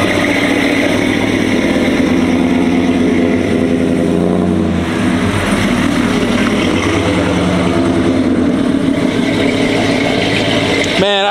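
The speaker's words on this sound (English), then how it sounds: "Man, I don't care what y'all say, that truck sounds good" A lifted Chevrolet truck's engine runs loud and close, holding a deep steady roar with a brief dip in revs midway before climbing again.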